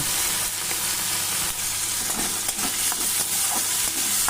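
Prawns frying in mustard oil in a wok for a rural Bengali home-style dish, a steady close sizzle and crackle with occasional stirring scrapes, no talking.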